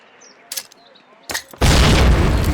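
A frag grenade goes off in the game Call of Duty, a loud close blast that breaks into a sustained roar of debris after two short sharp bangs and some faint background noise.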